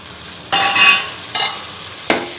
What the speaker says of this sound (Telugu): ఈ అల్లం తెల్లగడ్డ కొబ్బరి మనకి పచ్చివాసన పోయేదాకా వేయించుకోవాలి